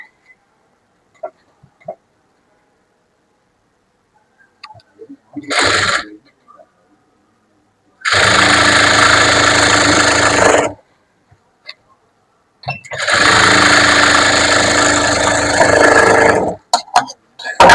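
Sewing machine stitching two churidar pant legs together, running in two loud, close bursts of about three seconds each, with a few faint clicks and handling noises before them.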